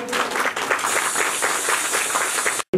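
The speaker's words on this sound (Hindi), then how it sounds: "ताली बजाइए दोस्तों, ताली बजाइए।" Church congregation clapping along during a Hindi sermon, a dense, loud burst of rapid hand claps with a rhythmic pulse, cutting off abruptly at the end.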